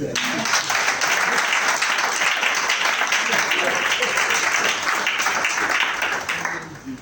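A church congregation applauds at a thanksgiving service, with dense sustained clapping filling the room for several seconds before tapering off at the end.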